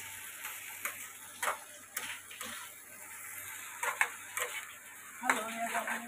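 Dried bombil fish being stirred in a pan, with a string of scraping and tapping spoon strokes over a soft sizzle, close and fairly quiet, in an uneven rhythm.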